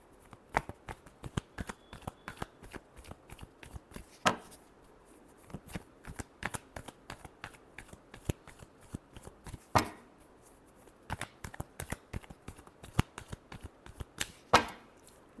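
Tarot cards are shuffled by hand in a steady run of quick, crisp riffs and flicks, with a few louder bursts where the deck is bridged, close and clear, with no talking.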